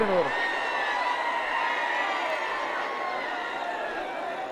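A large outdoor crowd at a bullock cart race cheers and roars continuously, loud and sustained, with overlapping voices shouting across the scene.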